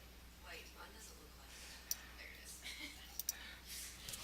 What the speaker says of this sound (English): So click and hold with your mouse